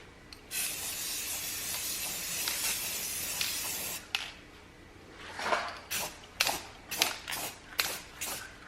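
Spray can paint being sprayed onto a rifle: one long continuous hiss of about three and a half seconds, then a string of short, sharp bursts of spray. The sound is close and there is no talk.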